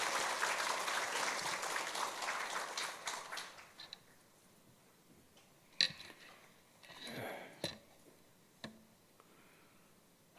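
Congregation applause in a church before a Sunday sermon, a dense wash of clapping for about four seconds that fades out, followed by scattered faint knocks and shuffling.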